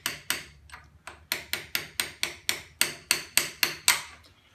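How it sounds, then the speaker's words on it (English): Steady hammer blows on a brass drift, about a dozen sharp ringing strikes in an even rhythm, close and loud, while driving out a countershaft seal. "I'm going to use just a brass drift and a hammer."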